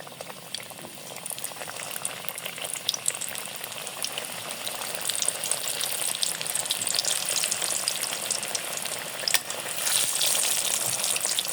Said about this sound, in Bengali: বাকিগুলো ভেজে নেব।